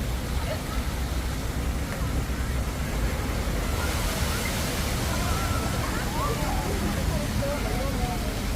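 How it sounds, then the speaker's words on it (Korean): Thin water jets spray at Yeonji splash park in Jongno-gu, Seoul, on a hot summer day, a dense, steady hiss of falling and splashing water with someone speaking over it. "가는 물줄기가 나오는 데서는 뭐 아이들도 어린아이들도 시원한 물줄기를 즐길 수 있을 것 같습니다"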